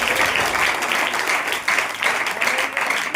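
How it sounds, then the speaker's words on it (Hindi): A church congregation at a Saturday power meeting clapping hands together, a dense burst of applause with a slight pulsing rhythm that continues for a few seconds at moderate loudness. "एक बार आनंद से ताली बजाओ।"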